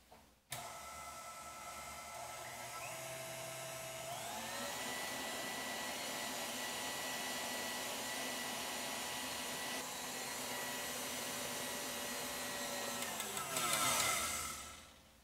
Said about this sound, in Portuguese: Agora eu vou juntar o açúcar e bater mais um pouco.